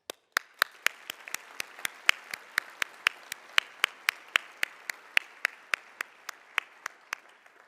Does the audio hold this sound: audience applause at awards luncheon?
yes